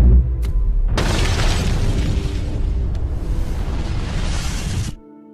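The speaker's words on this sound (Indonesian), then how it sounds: "tubuh Joseph sebelum kemudian generator tersebut meledak" A sudden loud generator explosion bursts in, followed by a sustained roaring, crackling rumble that lasts several seconds before cutting off abruptly.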